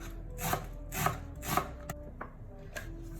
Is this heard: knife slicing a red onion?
yes